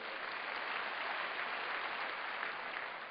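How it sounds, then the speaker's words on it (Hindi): An audience applauding at an Amway diamond recognition event, a dense, even wash of clapping from many hands that holds steady throughout, with no voices. "फिर से ताली दीजिए आज"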